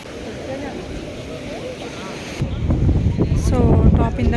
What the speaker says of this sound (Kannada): ತುಂಬ ಗಾಳಿ ಇದೆ ನೋಡಿ, ಕೂದಲೆಲ್ಲ ಹಿಂಗೆ ಆಡ್ತಿದೆ